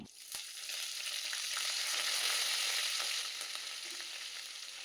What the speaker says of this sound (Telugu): ఇంక ఇప్పుడు కడాయిలో పోపు అయితే వేసేసుకుంటున్నాను